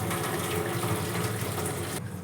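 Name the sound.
draining water from boiled rice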